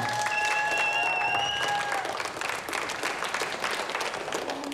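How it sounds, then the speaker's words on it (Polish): Studio audience applause for the last contestant in a Polish television school show, a continuous burst of clapping over a brief musical jingle that fades early, the applause carrying on alone to the end. "Brawa!"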